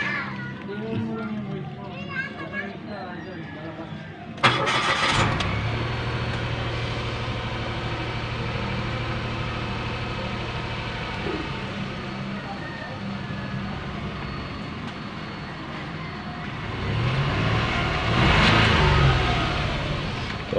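A Mitsubishi Mirage G4 with a stalling problem cranks and catches with a sharp burst, then settles into a steady close idle, rising into a brief rev near the end while someone talks over it.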